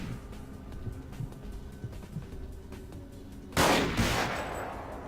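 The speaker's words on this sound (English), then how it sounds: "going to try one more time to use this gun" Video game gunfire sounds over a low background rumble, with faint scattered shots early on, then one sudden loud blast and a noisy wash that lingers to the end.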